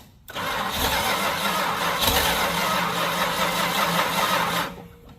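Engine of a 1970 Chrysler Newport convertible cranking and running with the throttle opened: a loud, steady, rough roar held for about four seconds, then cut off abruptly.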